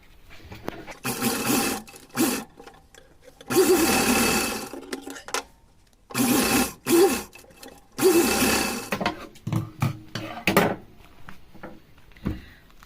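A sewing machine stitches the seams of a small Laddu Gopal dress, running in loud, close bursts of steady whirring separated by short pauses, with quicker, choppier runs toward the end.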